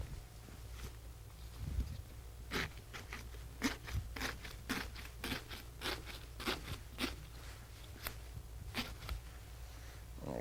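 A knife cuts around a fruit garnish, working close to the handle in a series of short, crisp crunching slices that come at irregular intervals, near and fairly quiet, with no talking.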